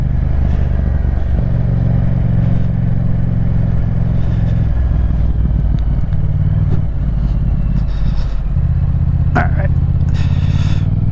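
Motorcycle fitted with a full exhaust system: a loud, close engine rumble that idles and revs with some clatter, while someone talks over it.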